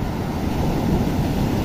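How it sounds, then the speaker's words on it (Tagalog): Big sea waves roll and surge in a steady, loud broadband roar with wind rumble, close by and continuous, no voices. "Lumaki na naman ang alon mga kasilong oh."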